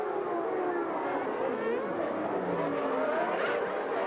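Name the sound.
Formula One cars racing on lap 1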